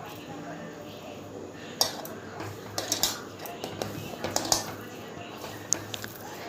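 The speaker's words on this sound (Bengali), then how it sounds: "নিয়ে আলুটা প্রথমে ভালো করে ম্যাশ করে নিচ্ছি" Two boiled medium potatoes are mashed in a bowl for soybean muitha, giving scattered soft squishes and sharp clinks of utensil against the dish, a spoken voice running underneath.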